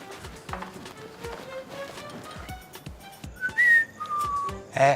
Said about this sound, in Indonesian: jangan siul malam-malam